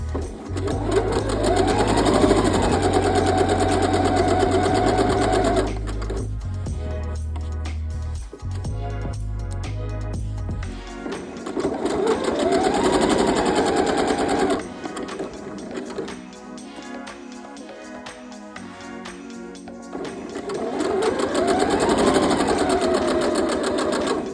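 Sewing machine stitching denim fabric for a dress, running in long close bursts with brief pauses between them and a steady, rapid needle chatter.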